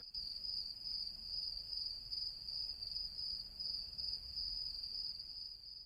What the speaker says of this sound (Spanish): A lo lejos los grillos comienzan a frotar sus patitas, produciendo un característico sonido.